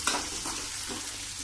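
Garlic and green chilli sauté in hot oil, sizzling steadily and close with a stirring scrape near the start.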